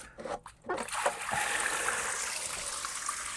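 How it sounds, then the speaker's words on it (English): Dirty water drains out of a Hayward pool filter canister after the drain plug is removed, first in brief splashes and then as a steady, moderately faint rushing flow. "you'll see in the canister all the water's running out"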